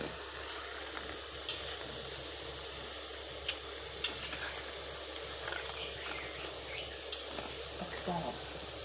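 Sliced bananas fry in hot oil with a steady, hissing sizzle that holds evenly throughout, broken by a few sharp clinks of a utensil against the pan.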